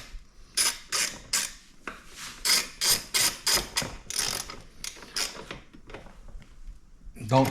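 A ratchet tightens bolts on a Suzuki King Quad 750 ATV, producing a series of quick, close clicking strokes in an even rhythm that slows and fades toward the end.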